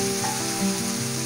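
Tomatoes tip into golden-brown frying onions for a drumstick masala curry, setting off a steady, close sizzle that holds evenly throughout with a faint stir or two.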